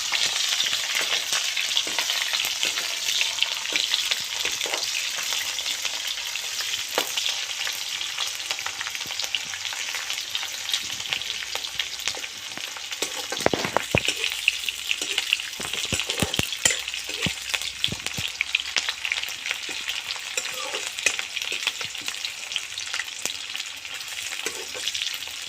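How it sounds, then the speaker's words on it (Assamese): Onions and bay leaves fry in hot oil in a pan for a chicken curry, giving a steady close sizzle with occasional stirring scrapes and no talk. "ৰঙচুৱা হোৱালৈকে ভাজি লওঁ।"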